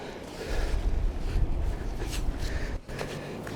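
Steady, rough wind buffeting the microphone outdoors, a constant roar with gusty swells and one brief dip near the end.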